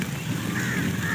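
Crows caw during rain in a village, harsh calls rising over a steady wash of falling water in one brief stretch.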